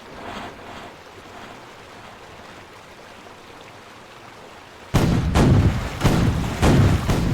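Brig sloop cannons in the age-of-sail game The Weather Gage, set in 1793, fire a salvo: after a quiet stretch of wind and water, a loud, deep volley of several booming shots rolls out in quick succession.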